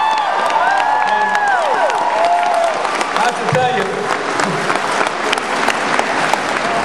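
Loud crowd applause with cheering and whoops fills a political rally in Medford, Oregon, dense and continuous throughout, with a voice speaking briefly over the clapping.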